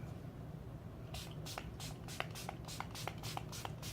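A rapid series of short hissing bursts of makeup setting spray, about nine in quick succession, fairly close and faint, with no talking.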